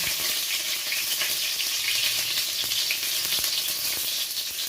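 Garlic frying in hot oil in a wok over lowered gas gives a steady, loud, close crackling sizzle throughout, with no voices.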